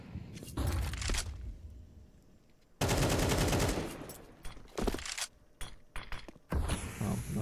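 SMG fire in a Counter-Strike match, with rapid bursts of automatic shots broken up by short gaps and mechanical clicks and clatter. The bursts are loud and up front, and no one speaks.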